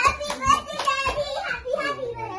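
Children clap their hands at a birthday party, several sharp claps in an uneven rhythm, close by and mixed with kids' voices.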